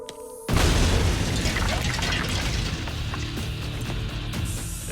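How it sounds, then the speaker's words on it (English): A sudden deep boom as 84 pounds of dynamite detonate inside a cement-filled mail truck bursts in after a brief quiet moment, followed by a long, loud rumbling roar of debris and crashing that slowly fades. "This is MacGyver, mail truck filled with cement and 84 pounds of dynamite."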